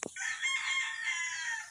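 Asil gamefowl rooster crowing once, a loud, close, drawn-out cock-a-doodle-doo lasting over a second in a backyard setting, alone without talk.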